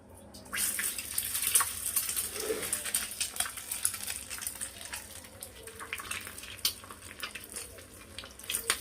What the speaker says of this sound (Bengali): ডিম ভাজবো, এই যে ডিম।